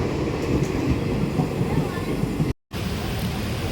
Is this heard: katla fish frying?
no